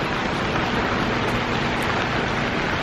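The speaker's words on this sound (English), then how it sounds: "it is raining, not just a little bit" Heavy rain pours onto a boat at anchor near Wolfe Island, a dense, steady hiss of drops with no break or rhythm, loud and close, and no voices.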